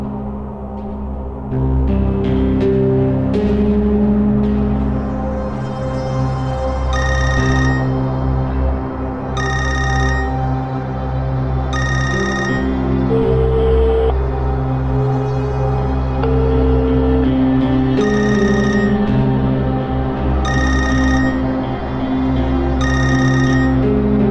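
A telephone rings unanswered in repeated short bursts with regular pauses, loud and close, over a steady low musical background with no voices.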